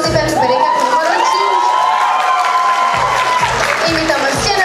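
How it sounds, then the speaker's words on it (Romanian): A loud crowd at a school freshmen's ball cheers, whoops and claps for a dance couple, with high shouts and sustained cheering swelling over steady applause and rhythmic low thumps near the end. "Aplauze pentru perechea cu numărul"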